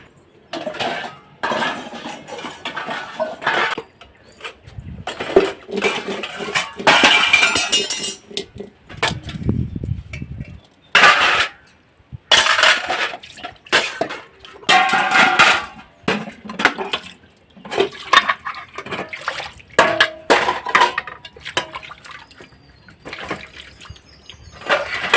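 Metal dishes, pots and pans are scrubbed and washed in a village kitchen, clanking, clinking and scraping close up in irregular bursts with water sounds between, no voices.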